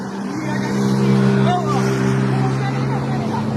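A motorcycle engine in a village setting runs with a steady, droning harmonic hum that swells slightly and falls back, fairly close, while several people talk over it.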